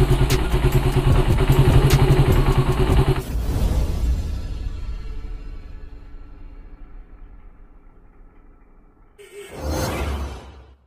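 A Suzuki Satria FU motorcycle engine with a rough, knocking, rattling condition runs loud and close, then trails off into a fading mechanical clatter before a short burst of engine noise returns near the end.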